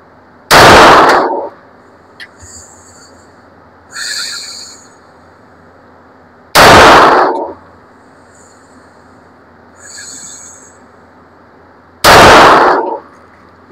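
Armscor STK100 pistol firing reloaded ammunition, three loud, sharp gunshots spaced about six seconds apart, each followed by a fainter clink or rustle between shots, close and outdoors-sounding with no talk.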